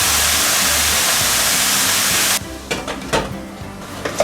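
A mixer grinder whirs loudly and steadily as it grinds coconut and poppy seed paste, then cuts off abruptly partway, leaving scattered clatters and soft handling noises.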